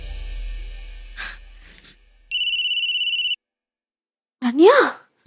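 An electronic phone ringtone sounds in a single steady beeping burst, set between brief breathy vocal noises and a rising, sighing sound.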